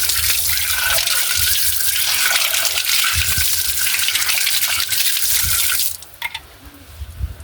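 Water gushes loudly and steadily from a household tap in a rural Kenyan home, a constant splashing stream that cuts off near the end, leaving faint drips.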